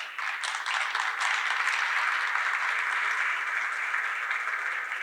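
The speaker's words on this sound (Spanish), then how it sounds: "Recibámoslos con un fuerte aplauso." A conference audience at the XX Congreso Internacional Porkaméricas 2022 welcomes a speaker with sustained, even applause that fills the room as a dense wash of clapping, without speech.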